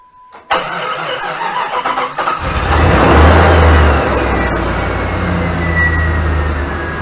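A car engine cranks and catches during a cooling system flush with the water hose running, then settles into a loud, steady idle with a brief rev after starting, heard close up.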